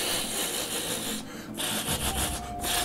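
Popcorn rustles in a bag in a movie theater, a steady crinkly scratching rummage with short pauses, fairly close and quiet.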